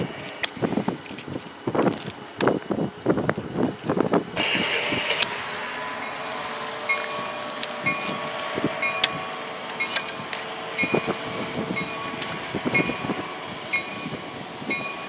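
Train hauled by EMD diesel locomotives passing on the B&O line in Chillicothe, wheel clicks and rail joint thumps repeating over a sustained rumbling drone with steady high squealing tones, close and fairly loud.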